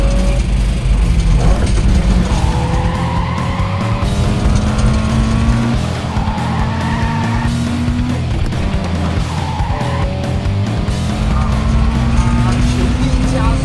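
Perodua Myvi at full throttle on a race track, engine revving hard and climbing through repeated rising sweeps with gear changes, loud and close, with a voice speaking over it.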